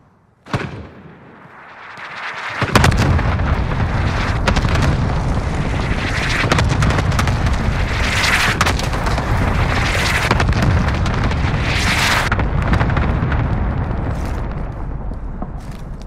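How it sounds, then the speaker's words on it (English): Cluster strike explosions in a video game: a sharp early bang, then a dense, continuous rumbling barrage of booms that swells and holds loud for over ten seconds. "Allied cluster strike incoming."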